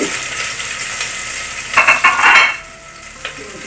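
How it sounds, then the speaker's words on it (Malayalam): Fennel seeds and cumin dropped into hot oil for a vegetable biryani, a steady close sizzle that swells into a brief burst of sharp crackling and spluttering before settling back, with a light utensil clink and no talk. "പൊട്ടി തുടങ്ങിയിട്ടുണ്ട് അപ്പോൾ നമുക്കിനി പെരിഞ്ജീരകം ജീരകം ഇട്ട് കൊടുക്കാം"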